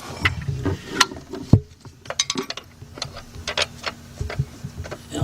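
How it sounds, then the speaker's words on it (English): Metallic clinks and ratcheting clicks of a 13 mm wrench working a bolt on a Chrysler/Dodge engine during alternator removal, close and irregular, with sharp taps and scrapes. "now I'm going to reach back here with my 13 millimeter wrench."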